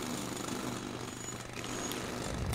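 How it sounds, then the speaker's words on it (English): Harsh mechanical drilling noise rattles continuously in the game SimAirport, a dense buzzing grind like pit stop impact guns, steady and fairly loud with no talk. "Hear a lot of drill noises"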